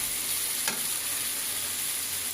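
Chicken curry sautéing in a pan, a steady broadband sizzle running throughout with one brief scrape or stir near the start, close and continuous with no talk.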